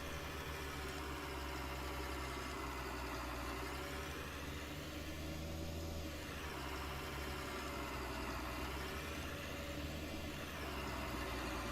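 A John Deere tractor engine idles in Farming Simulator 19, a steady, continuous low mechanical drone with a droning hum that holds unchanged throughout, with no talking over it.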